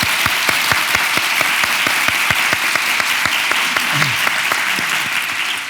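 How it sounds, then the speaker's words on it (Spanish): An audience in a school education-week talk claps fast and loud in unison, a dense rapid burst of applause from many hands that holds steady, with a faint voice briefly underneath. "Aplaudimos rápido al principio, fuerte y a la de 3."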